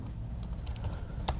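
Quick, irregular typing keystrokes on a computer keyboard while entering a spreadsheet formula, faint clicks over a low background hum, with one louder tap near the end.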